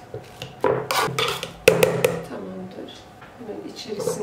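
Hot boiled potatoes being mashed in a pot: irregular knocks and scraping clatters of utensil against cookware, with someone talking over it.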